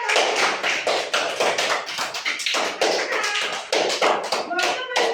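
Children at a school activity clap their hands in a steady run of quick, loud claps, with voices talking over them throughout.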